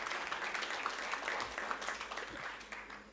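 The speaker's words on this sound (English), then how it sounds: "Can we all have a huge round of applause to both of them?" An audience applauds the outgoing Rotaract team at a St. Joseph's College of Commerce installation ceremony, steady moderately faint clapping that holds throughout without a break.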